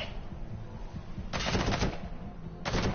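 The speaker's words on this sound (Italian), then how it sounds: "Perché mi spari? Dimmi perché mi spari?" Two bursts of rapid automatic gunfire from the Metal Gear Solid V video game, the first longer and the second shorter, crackling over a low background rumble.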